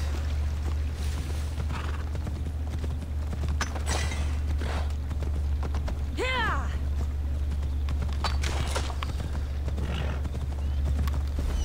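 A horse's hooves clip-clop steadily in Assassin's Creed Odyssey over a low constant background hum, with a brief whinny partway through and someone talking over the game sounds.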